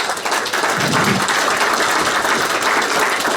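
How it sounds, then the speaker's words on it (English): A meeting hall audience at a Supreme Council session in Edinburgh breaks into a loud, sustained round of applause, dense steady clapping that fills the space without a break for several seconds. "so a big round of applause for Brother John."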